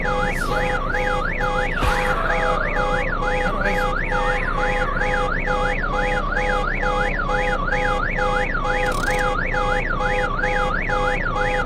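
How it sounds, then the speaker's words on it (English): A loud electronic alarm sounds continuously indoors, a rapid rising-and-falling warble repeating steadily with a constant tone beneath it, close and unbroken throughout. "Where's the alarm?"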